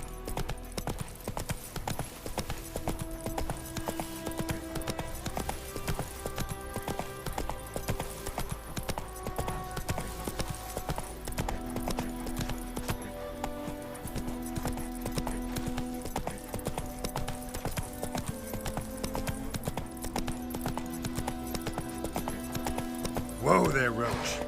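Roach the horse trotting in The Witcher 3, a steady run of hoof clip-clops beneath game music, with a brief whinny and a voice speaking over it.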